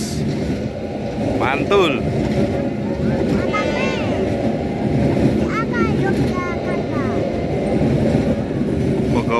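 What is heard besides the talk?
Bogowonto train with stainless carriages passing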